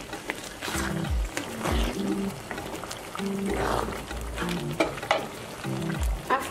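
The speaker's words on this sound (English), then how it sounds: "As usual, I like onions a lot. So I'm putting in my onions." Onions frying in a pan for a Ghanaian egg stew, crackling and sizzling close by with occasional stirring scrapes. Moderately loud and continuous, with music in the background.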